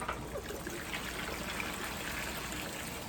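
Washing water left from cleaning fruit and vegetables is poured out of a bowl, a steady close trickling stream of water without pause and with no talking.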